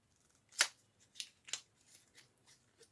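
Lipstick packaging being opened: a moisturizing lipstick in a purple shade, in a square case, gives a few crisp close snaps and rustles spaced over a few seconds, then quieter small handling clicks.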